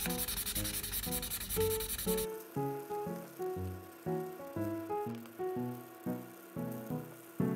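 The stained edge of an old, yellowed paper manga volume is scrubbed in a brief, dense rubbing burst, and after that only gentle background music is heard.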